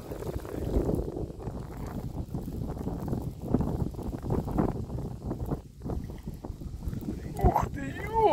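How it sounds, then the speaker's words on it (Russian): Strong wind gusting across a river pier on the Dnieper during roach fishing, a steady broadband rush and buffeting on the microphone throughout, with people talking over it. "Да ветер капец поднялся."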